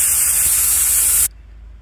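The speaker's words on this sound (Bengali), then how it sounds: "এখন আমি ঢাকনা দিয়ে দিলাম। 3-4টা ছিটি বাজবে, তারপরে হচ্ছে আমি নামিয়ে নেব।" A pressure cooker cooking beef lets out a loud, steady steam whistle, a sustained hiss that cuts off abruptly after about a second, leaving only faint room noise.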